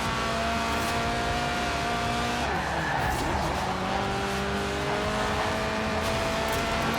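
Lotus Elise Sport 190 with a 1.8-litre engine revving to 8,000 RPM in Forza Horizon 4, a loud sustained engine note with shifting pitch and a brief tire screech midway.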